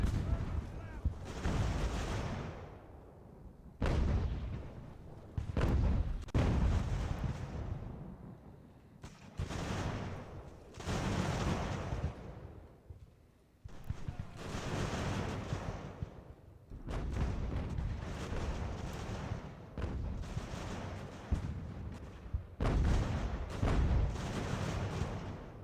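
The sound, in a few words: artillery and musket fire in Ultimate General: American Revolution video game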